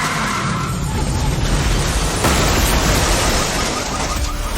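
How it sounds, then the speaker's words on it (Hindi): A car accident outside a house: a sustained loud, dense wash of crashing, skidding noise that swells midway and fills the whole stretch without pause. "उन्हें उनके घर के बाहर कोई एक्सीडेंट होने की आवाज आई।"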